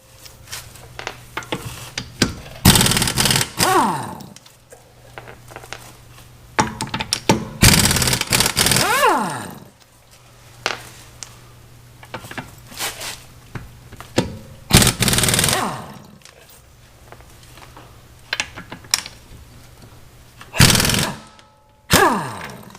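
An impact wrench rattles in several loud bursts while a wheel is removed from a VW GLi, with quieter clanks and handling noises in the gaps between bursts.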